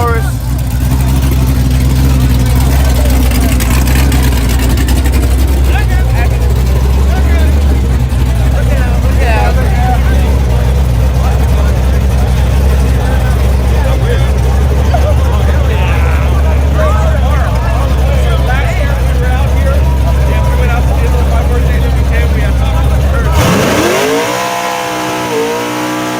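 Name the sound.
street racing cars accelerating down the track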